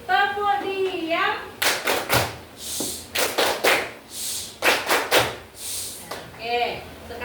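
A classroom of children performs the tepuk diam clapping routine, a run of sharp rhythmic hand claps in short bursts between chanted voices, with a spoken voice before and after.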